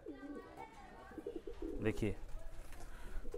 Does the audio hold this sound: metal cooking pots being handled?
no